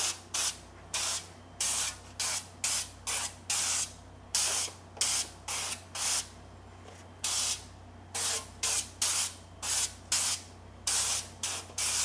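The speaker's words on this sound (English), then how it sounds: "This is an avocado oil spray, just to make things easier" Avocado oil cooking spray squirted over food before baking, a run of short, loud hissing bursts in quick succession with brief gaps, close to the microphone.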